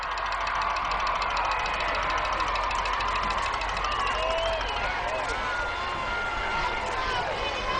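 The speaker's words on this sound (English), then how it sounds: "Crowd roaring on the far side." Crowd roaring on the far side of a high school football stadium during a Division III state semifinal game, a steady, sustained wash of distant cheering and voices that continues without break throughout.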